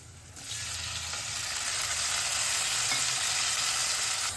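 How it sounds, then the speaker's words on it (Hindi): Steady, loud sizzling of tempering spices hitting hot oil in a wok, a broad hiss that swells after a brief start and holds continuously with no talking. "कढ़ाई में तड़का लगा रही तो सारा डाल देती हूँ"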